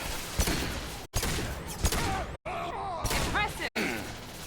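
Mass Effect gunfire rattles in bursts, sharp repeated shots broken by brief silences, with game combat voices and effects mixed in.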